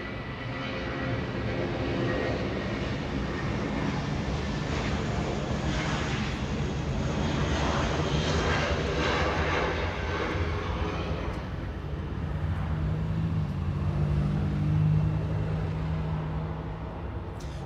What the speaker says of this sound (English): A departure happening right now, and that's an A320.